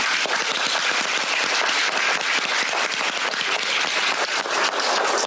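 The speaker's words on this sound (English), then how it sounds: "First of all, round of applause for you." Graduating law students receive a round of applause from the audience at a commencement lecture, thick continuous clapping from many hands, loud and unbroken throughout.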